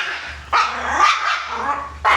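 A reactive dog barks during grooming, with two or three loud, close, harsh barks with a growling edge, separated by brief gaps against a low background hum.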